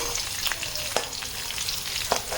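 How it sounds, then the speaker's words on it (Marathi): Cumin seeds and green chilies sizzle and spit in hot oil, a steady close frying hiss broken by sharp crackling pops, with no talk. "जिरा उडतं आणि आता हे जिरा आणि मिरची पकली"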